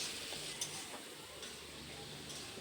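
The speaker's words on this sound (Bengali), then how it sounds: "চিংড়ি মাছটা ওই পেঁয়াজের ওপরে দিয়ে একটু নাড়াচাড়া করে নেওয়া হচ্ছে" Prawns frying and being stirred over onions in a pan, a soft steady sizzle with a few faint stirring clicks, quiet and close, no talk.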